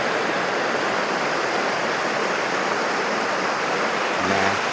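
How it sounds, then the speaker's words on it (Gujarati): A river pours over a small hill-station waterfall, producing a loud, continuous, close hiss and rush of falling water that holds steady throughout with no speech. "અને આ નદીમાંથી પાણી આવે છે"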